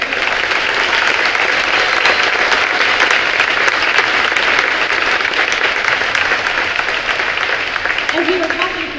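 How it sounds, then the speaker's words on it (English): A school spring pops concert audience gives the treble choir a big round of applause, dense sustained clapping close and loud for the whole stretch, thinning slightly toward the end with a voice starting under it. "I would love if you just give them another big round of applause for that"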